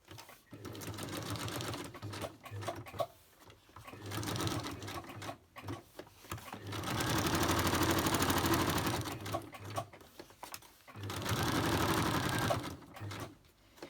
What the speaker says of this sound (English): I'm going to stitch around it.